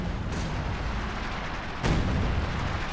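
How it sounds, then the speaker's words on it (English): Major artillery fire in an online strategy game match, a continuous rumbling barrage with two sharp booming impacts standing out, loud and close with no talk over it. "Major artillery seems better this patch"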